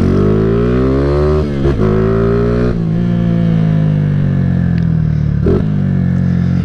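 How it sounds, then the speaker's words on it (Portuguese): Honda CG 150 Titan 2008 motorcycle with an aftermarket GRS exhaust, engine droning loud and close with steady low harmonics, rising and falling through several throttle blips and gear changes. "Ó, barulhão, escapizão GRS, canta demais."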